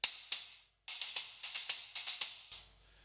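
Paiste PSTX 10-inch Swiss splash stacked on a 2002 10-inch splash, struck in a quick series of about ten short, trashy, bright hits with a brief gap early on, each choked off fast and close.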